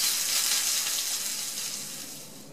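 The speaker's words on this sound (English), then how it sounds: "Once you brown them on one side, don't forget to flip them over and brown them on the other side as well" Fish sticks frying and browning in a pan give a dense, steady hiss of oil sizzle, close and continuous, fading slightly toward the end.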